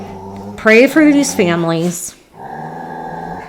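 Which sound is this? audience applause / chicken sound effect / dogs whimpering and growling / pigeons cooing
dogs whimpering and growling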